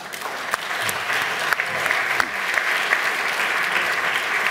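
An audience at a political talk claps steadily, a dense wash of applause with a few sharper individual claps standing out and a faint murmur of crowd voices beneath.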